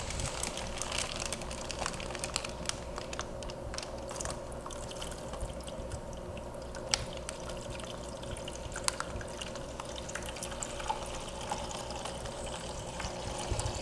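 Water poured and drained out of a fish container, a steady close trickle with small drips and splashes running continuously, no talking.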